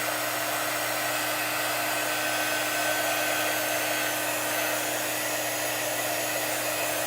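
A heat tool dries chalk paste on a Chalk Couture craft project, giving a steady, close, continuous blowing whir with no pauses and no talking.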